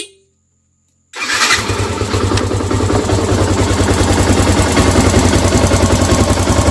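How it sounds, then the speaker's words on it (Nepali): A motorcycle engine fresh from an oil change cranks and catches after a second of silence, then settles into a steady, loud, close idle with a regular low throb for the rest of the clip. "बाइक मैले स्टार्ट गरेँ है"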